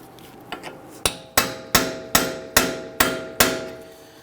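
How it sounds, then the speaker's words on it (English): A hammer strikes a heavy-duty punch set in the center of a rear axle on a 2010-2019 Ford Taurus to break it free from the wheel hub: two light taps, then six loud, evenly spaced metallic blows with short ringing decay. "So you want to use a heavy-duty punch, put it in the center. We want to break that free."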